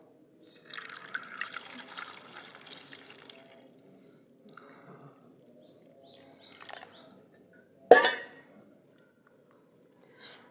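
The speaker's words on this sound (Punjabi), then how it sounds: "ਹੁਣ ਆਪਾਂ ਪਾਣੀ ਪਾਵਾਂਗੇ ਵਿੱਚ" Water splashes and trickles into a pot of sweet potatoes for boiling on a village fire stove, followed by a sharp clank and a few quiet drips, with faint chirping birds in the background.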